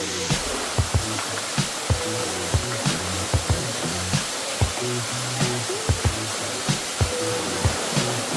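Steady broadband rush of water pouring down at El Questro Gorge, constant and fairly loud, with a string of soft knocks and thuds scattered through it and no voices.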